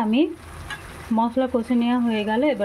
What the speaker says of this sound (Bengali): ভালো করে এবার মশলা কষে নেব